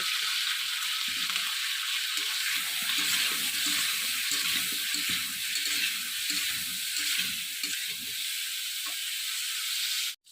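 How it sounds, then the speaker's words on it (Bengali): Pointed gourd (potol) frying in a pan, giving a steady, close, hissing sizzle that holds evenly throughout and cuts off abruptly at the end, with no one talking. "এখন পটলগুলোকে আমি ফ্রাই করব"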